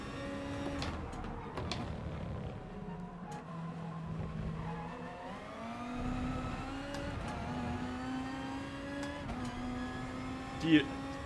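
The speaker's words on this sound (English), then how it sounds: "Do you rev the Beetle out?" A Volkswagen Beetle engine in GT Sport hums and climbs steadily in pitch through the gears, held at a moderate level beneath someone talking throughout.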